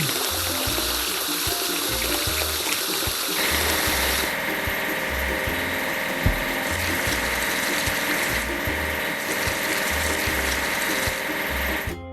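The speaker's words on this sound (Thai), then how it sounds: "เราต้องล้างเครื่องตักดิน" A constant hiss of spraying water runs alongside looping mechanical ratcheting and whirring as a loader is washed in a mobile house-building game, steady and close throughout.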